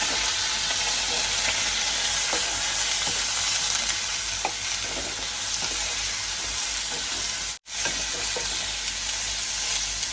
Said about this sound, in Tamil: இந்த போஞ்சிக்காய் போடுவோம். நல்லா வதக்கி விடுவோம்.